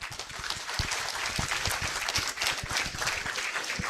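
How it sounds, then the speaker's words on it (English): An audience at a university faculty awards ceremony applauds, a dense patter of many hands clapping steadily at moderate distance for a few seconds. "Another round of applause."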